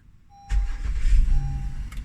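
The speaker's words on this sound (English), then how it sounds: "engine start" A rental car's engine cranks and starts after a brief electronic chime, settling into a steady near idle with a low rumble.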